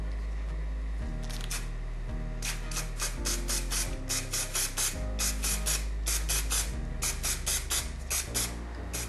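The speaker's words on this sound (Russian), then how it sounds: "Его нужно хорошо встряхнуть и наносить лак на расстоянии 30 сантиметров." Lacquer is sprayed from an aerosol can onto a bottle in a series of short hissing bursts with brief pauses, close and fairly steady, with no one speaking.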